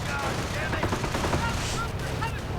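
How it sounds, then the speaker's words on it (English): Armored cars and Volksgrenadier infantry fire in a WWII strategy video game, with steady crackling machine-gun and rifle fire and scattered shots under a constant battle din, while a commentator talks over it. "as the armored cars are pushing pretty heavily with different kinds of guns and Volksgrenadiers in support"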